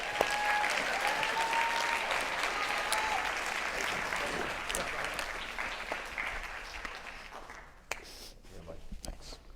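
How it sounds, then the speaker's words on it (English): A round of audience applause for candidates at a Kings County political debate, dense clapping that gradually thins and fades toward the end, with scattered taps and murmuring voices. "Give them another round of applause."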